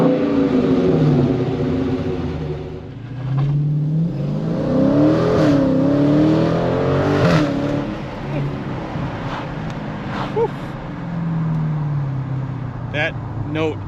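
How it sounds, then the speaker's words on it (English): A 2021 Dodge Challenger R/T Scat Pack V8 muscle car starting up and revving, its deep exhaust note rising and falling loud and close throughout, with talk over parts of it. "I'm going to give you that exhaust note on the startup"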